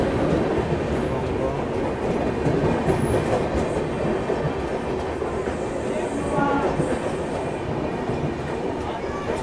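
An Uttarbanga Express passenger train with LHB coaches runs steadily and loudly, its broad rumble and rail noise filling the whole stretch with faint rhythmic wheel clatter.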